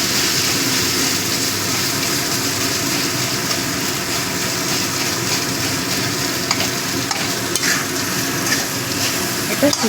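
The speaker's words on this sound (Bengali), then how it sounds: "লোটে মাছটা দিয়ে ভালো করে মিশিয়ে নেব।" Bombay duck fish is stirred and mixed in a hot pan, with loud continuous frying sizzle and scraping of the utensil throughout and a few sharper clicks near the end.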